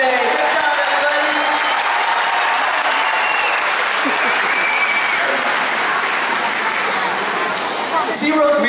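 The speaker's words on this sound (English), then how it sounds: "let's get a huge round of applause for our volunteers today" A large outdoor stadium audience at a SeaWorld orca show applauds its soaked volunteers, a loud, dense, sustained wash of clapping and cheering that holds steady throughout, with a voice faintly mixed in.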